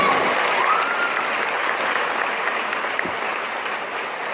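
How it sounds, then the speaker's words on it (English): Graduates and the crowd at a community school commencement break into applause, a broad, even wash of clapping that stays strong throughout the clip. "go and give yourself a round of applause"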